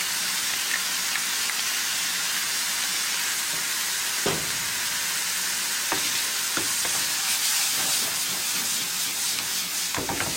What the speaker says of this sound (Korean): 이렇게 고기를 물기 없이 볶아주시면 돼요